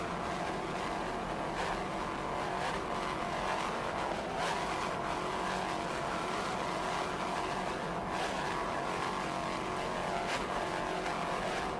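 A 41-foot Apache offshore racing powerboat runs at the 1993 offshore world championships in Fort Lauderdale, giving a steady, continuous engine roar with broadband wind and water noise throughout.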